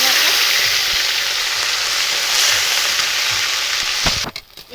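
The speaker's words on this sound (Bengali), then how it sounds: "এবারে দিচ্ছি পেঁয়াজ বাটা।" Onion paste hits hot oil with whole garam masala in a kadai, giving a loud, close, hissing sizzle that holds steady for about four seconds before it cuts away abruptly.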